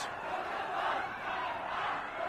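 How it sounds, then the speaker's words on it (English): A Hong Kong crowd hurls abuse and curses at police, a dense, steady roar of many shouting voices blending into a continuous din with no single voice standing out. "you get scenes like this, with the crowd hurling abuse and curses at them"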